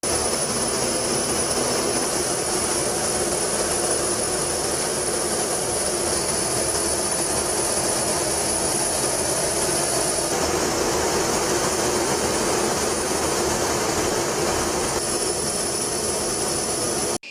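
A B-1B bomber with afterburning turbofan engines roars past, a loud, sustained jet rumble and hiss that holds steady for many seconds, with no voices.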